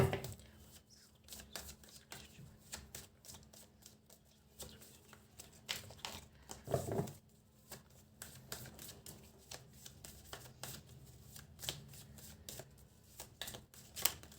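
Tarot cards are shuffled close by in quick, soft, riffling flutters and taps that repeat steadily and quietly.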